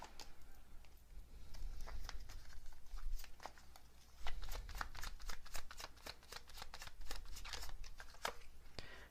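Tarot cards riffle and snap in close, quick bursts of crisp, papery shuffling that come and go in an uneven rhythm, soft and near with no talk over them.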